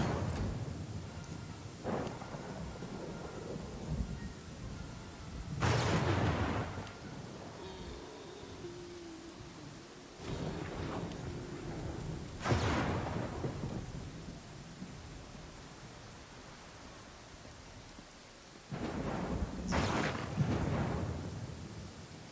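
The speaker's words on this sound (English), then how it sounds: "The rain's pretty intense too." Rain and thunder in the fantasy role-playing game Pathfinder: Kingmaker: a steady wash of heavy rain with several loud rolling thunderclaps breaking through at intervals, alone without speech.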